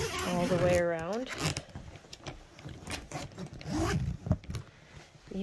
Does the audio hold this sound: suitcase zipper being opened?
yes